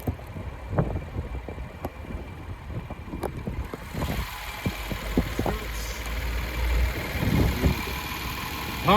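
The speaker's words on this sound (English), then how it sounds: "Powerful V6." A 2023 Genesis GV70 3.5T Sport Plus AWD with its V6 idling, a steady low throb under scattered clicks and handling noises, recorded close and fairly quiet.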